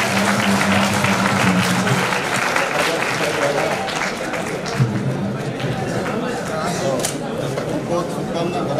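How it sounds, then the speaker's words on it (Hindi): Sustained loud applause from a hospital audience welcoming medical staff, a dense continuous wash of clapping with crowd murmur and voices mixed in throughout. "हम चाहते हैं इनको तालियां बजाकर उनका स्वागत करें।"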